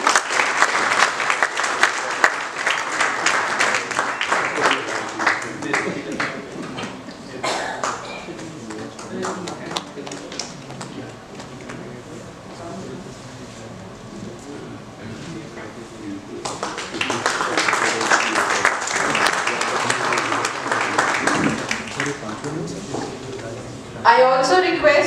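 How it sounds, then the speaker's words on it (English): Audience applause at a medical education award ceremony honouring a doctor, steady clapping in two long swells separated by a quieter stretch, with a voice speaking over the room in between. "A huge round of applause for you,"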